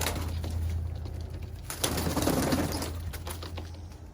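Pigeons coo in a loft, soft low throaty calls repeating close by over faint rustling and ambient hum.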